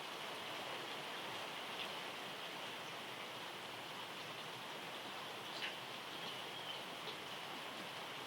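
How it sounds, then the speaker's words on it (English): Rain falling outdoors, a faint, even hiss that stays steady throughout, with an occasional brief drip or patter standing out, and no voices. "And I assume you can hear the rain, so listen to the rain."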